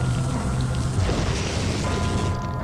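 A deep booming explosion in the video game American McGee's Alice, heavy and sustained with low rumble throughout, loud and alone without speech.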